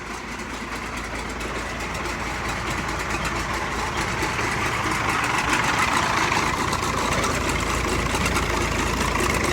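An Allis Chalmers 200 tractor engine idles steadily and close, with a dense, even rumble and a faint clatter that holds for the whole stretch.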